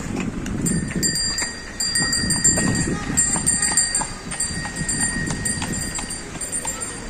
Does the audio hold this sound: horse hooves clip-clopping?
yes